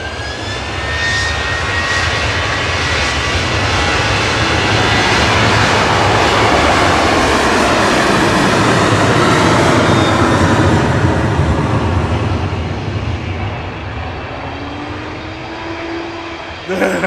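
A Ryanair jet rolls for takeoff down the runway at Manchester Airport, a loud sustained engine roar that builds and holds steady, with a rising whine near the end.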